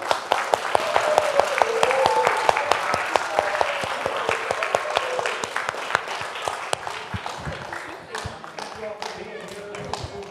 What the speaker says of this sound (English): Could you join me in giving a round of applause?